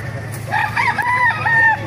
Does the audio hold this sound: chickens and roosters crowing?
yes